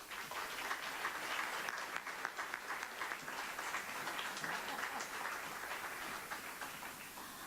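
Steady applause from a large audience at the kickoff event for the National Folk Festival, a dense, even wash of clapping that holds at moderate level throughout without any talk.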